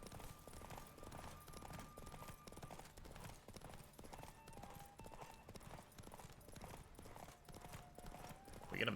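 Geralt's horse Roach gallops in The Witcher 3: Wild Hunt, a steady, fairly faint clip-clop of hooves running the whole way with music in the background and a sudden louder burst at the end.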